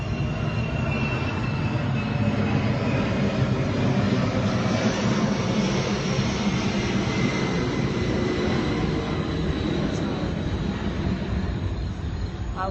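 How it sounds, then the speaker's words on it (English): An airplane passes overhead at night, a steady, loud, broad roar that fills the whole stretch without rising or fading, with no voices. "Another airplane, I really apologize. It happens all night."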